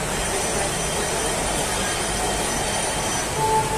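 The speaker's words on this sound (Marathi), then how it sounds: "पुणे दौंड एक्सप्रेस आली" The Pune-Daund Express pulls into a station with a steady, loud rumble of rolling wagons and a thin wheel squeal rising near the end.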